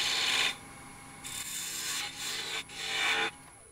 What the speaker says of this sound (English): I'm just going to clean up any tear out from the parting tool with this spindle gouge